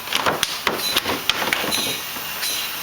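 An air-operated pump strokes with a quick series of sharp, knocking impacts over a continuous airy hiss, its rhythm slightly uneven, close and fairly loud.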